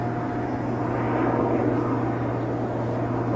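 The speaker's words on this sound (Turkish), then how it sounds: "Sahil güvenlik helikopteri balıkçı arkadaşları denetlemeye çıkıyor." A coast guard helicopter passes overhead, a steady, continuous, moderately loud engine drone with a low rumbling hum throughout.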